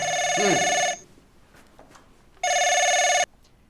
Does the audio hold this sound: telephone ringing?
yes